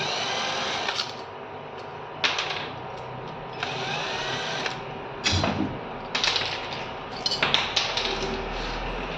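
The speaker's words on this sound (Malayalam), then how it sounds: "നമുക്ക് ആദ്യം ഇതിൻ്റെ മോട്ടർ ഒന്ന് അഴിച്ചു നോക്കാം നാല് സ്ക്രൂ ഉണ്ട് ഇവിടെ" Four screws being backed out of a table fan motor with a screwdriver, a run of close ratcheting, clicking and scraping bursts separated by short pauses, no talk.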